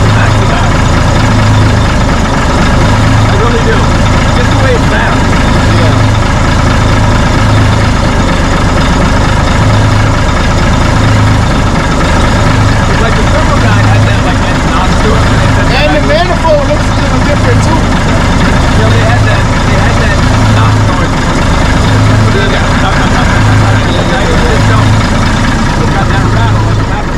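A 1964 B Model Mack truck engine idles while warming up, a loud, steady low rumble with a rhythmic pulse running throughout, close by.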